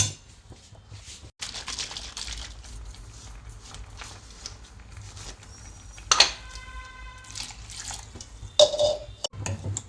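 Water is poured into a ground greens mixture for an arai keerai dish in a home kitchen, a soft trickle with small drips and clinks of a vessel, close and alone without talk.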